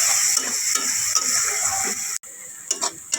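Onions sizzling in a pan with a pinch of salt, a steady close frying hiss broken by soft stirring scrapes and a brief dropout midway before the sizzle resumes.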